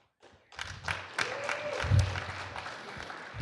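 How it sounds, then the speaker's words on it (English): Tepid applause from an audience at a Kansas City startup meetup as two new members are introduced, a modest patter of clapping rising after a quiet start and holding at moderate level, with a faint voice beneath. "That's tepid applause, but we'll accept it."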